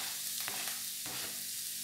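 Chopped onions sauté in olive oil over low heat, giving a steady, dense hiss with two brief stirring scrapes, close and continuous.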